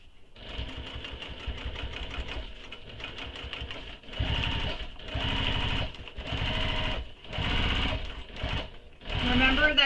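A sewing machine topstitches a mini crossbody bag along a seam, running close and loud in several steady bursts of rapid stitching separated by short pauses.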